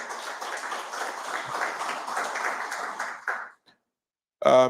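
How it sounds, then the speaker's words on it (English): Audience at a town hall meeting breaks into applause, a dense patter of clapping for a few seconds that fades out, followed by a brief loud burst at the end. "Please give her a round of applause"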